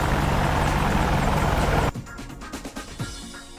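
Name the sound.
Mi-8 helicopter in DCS World video game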